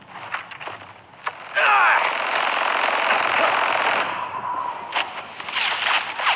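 Rifle gunfire in the Brothers in Arms 3 mobile shooter comes as sharp cracks and a burst of sustained rattling fire, mixed with clattering game effects and a few spoken lines.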